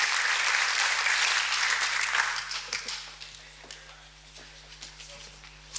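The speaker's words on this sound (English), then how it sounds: "Give him a round of applause" An audience at a token engineering talk claps for an incoming speaker, the applause dense and steady at first, then thinning into scattered claps after about two seconds and dying away.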